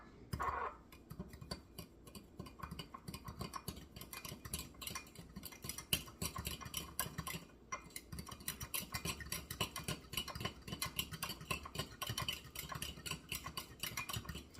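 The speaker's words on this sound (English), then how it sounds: "And then give this a good mix." A spoon clatters and scrapes in a bowl while rice pudding ingredients are mixed, making steady irregular clinks and scrapes at a faint level with no talking.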